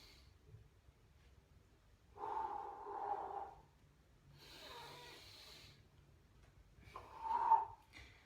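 Audible breaths during a spine mobility exercise, a few separate airy inhales and exhales with brief pauses between them, close and quiet against a near-silent room.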